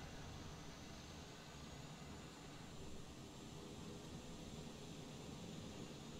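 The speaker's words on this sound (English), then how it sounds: "it's weird, because you hear the jet engine," A steady broadband jet engine roar from an aircraft in Microsoft Flight Simulator 2020 holds at an even, fairly quiet level throughout, with no talking.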